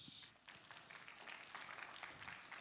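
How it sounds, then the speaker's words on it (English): Scattered audience clapping at a church camp gathering, fairly faint and uneven, rising after a brief quiet start and continuing as a loose, soft patter. "Okay, let's clap our hands."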